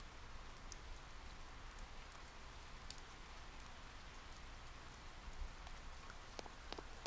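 Steady, soft hiss of rain from the video game Persona 4, a quiet continuous wash with faint scattered droplet ticks and no talking.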